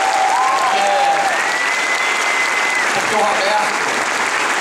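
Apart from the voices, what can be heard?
audience applause at musical closing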